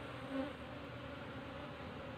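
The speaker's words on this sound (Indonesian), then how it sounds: "Namun lebah pekerja akan mengikuti kita dan ikut menempel di tangan kita." Wild honey bees buzz in a steady, low-level drone as a swarm is moved into a box, faint and continuous with one brief louder hum near the start.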